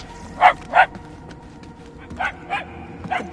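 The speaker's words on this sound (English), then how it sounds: "The barks are getting louder at least." A dog barks somewhere nearby in the Guardians of the Galaxy video game, two sharp barks followed by three more at a moderate distance. The barks are separated by quiet gaps and play over a low game ambience.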